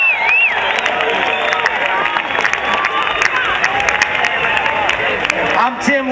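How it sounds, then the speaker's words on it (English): Festival audience applauding with a dense, steady clatter of many hands and scattered cheers, loud and sustained throughout with a sung or spoken voice faintly woven in. "can we give a big round of applause to everybody who makes this thing happen"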